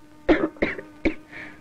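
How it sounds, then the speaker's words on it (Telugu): A young woman coughs three times in quick succession, close and clear, with short pauses between the sharp bursts and a softer breathy trail after the last one. "అమ్మాయి దగ్గుతున్నట్టుంది"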